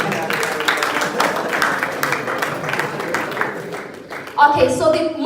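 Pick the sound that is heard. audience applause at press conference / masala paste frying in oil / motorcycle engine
audience applause at press conference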